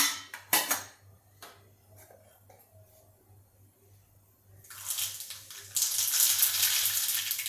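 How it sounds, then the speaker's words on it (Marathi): Mustard seeds drop into very hot oil for a bottle gourd thalipeeth, bursting into a loud, dense crackling sizzle after a few utensil clinks and quiet moments, with no speech. "आणि आता आपण याच्यामध्ये मोहरी टाकून घेऊ तेल चांगलंच गरम झालेलं आहे"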